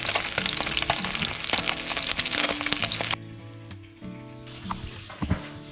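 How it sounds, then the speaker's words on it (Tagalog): Freshly caught fish, cleaned beforehand, sizzles in hot oil, a loud dense crackle for about three seconds before dropping to a quieter bubbling with a few faint knocks and scrapes. "Nalinisan na po natin. Pritoon na po natin siya."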